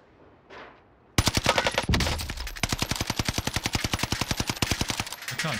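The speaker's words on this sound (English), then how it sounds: "I can't shoot through that window." Gunfire in Call of Duty Warzone Pacific: after a brief quiet moment, a loud single shot is followed by long rapid automatic bursts. The close, rattling fire keeps a fast, even rhythm almost without pause.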